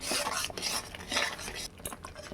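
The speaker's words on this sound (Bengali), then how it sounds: "সেই দইটা আমি এর মধ্যে দিয়ে আবার মিনিট 3-4 আমি ভালো করে কষিয়ে নেব" Spice masala and whisked yogurt stirred and fried in a pan for a cauliflower roast, a steady close scraping and sizzling hiss with spoon strokes against the metal, continuous and fairly loud.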